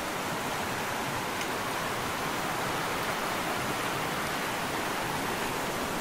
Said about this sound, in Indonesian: kalau mendengar suara sungai itu rasanya bikin tenang, bikin syahdu